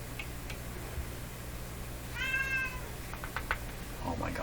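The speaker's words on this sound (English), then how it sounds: "Oh my gosh, that's my other cat" A house cat gives a single short meow in a quiet room during a repair session on a Deforest D556 five-tube radio, with faint ticks and light rustling around it.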